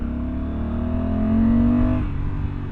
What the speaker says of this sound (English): they've given it a little more exhaust sound for 2024.